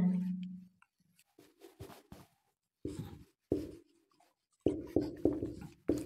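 Chalk or marker writing on a board during a Hindi-language English grammar class, with quick scratchy strokes and taps in irregular bursts, close and fairly quiet, a low hum at the start.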